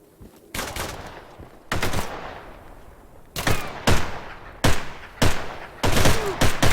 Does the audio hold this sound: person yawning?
no